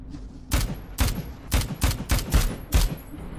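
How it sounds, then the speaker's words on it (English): Gunshots in Dead Rising 4, about seven sharp, loud reports fired at an irregular, fairly quick pace over a low background hum, with no one speaking. "That must have been a headshot."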